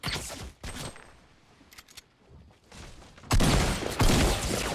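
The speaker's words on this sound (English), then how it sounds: "He's being shot in the back because there's a guy behind us that's like shooting at us" Rapid bursts of gunfire in the Fortnite video game, with short rattling volleys separated by brief gaps and then a heavier sustained burst near the end.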